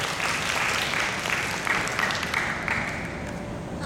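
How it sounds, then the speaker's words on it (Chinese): A meeting of junior high school principals in Kaohsiung claps to welcome a professor as speaker: dense, even applause runs close and steady for about four seconds before tapering slightly. "是不是用最热烈的掌声来欢迎"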